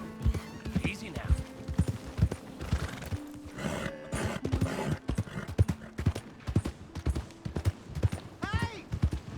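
Horse hooves clip-clop steadily throughout while voices talk, and a horse whinnies near the end, in the video game Red Dead Redemption 2.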